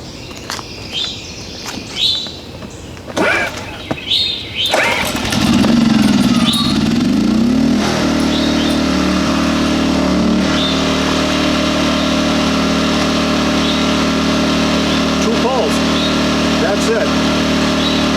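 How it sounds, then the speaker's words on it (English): Champion generator engine being started: a few clicks and handling noises, then the engine catches and settles into a steady, loud, droning idle, with birds chirping in the background. "turn the gas on, pull the choke, turn the engine button on"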